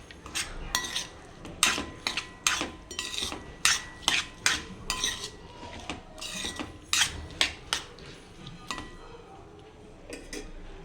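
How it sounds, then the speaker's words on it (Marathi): A spoon stirs sprouted moth bean curry (matki usal) with jaggery and garam masala in a pan, making repeated scraping clinks against the metal at a steady, close rhythm with no talking. "परत एकदा छान हलवून घेणार आहे."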